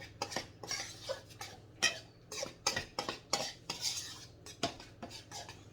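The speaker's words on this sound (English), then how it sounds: "And stir all that up." A utensil stirs banana nut bread batter in a bowl, producing quick repeated scraping clinks and taps in an uneven rhythm, close and fairly quiet, with no talking.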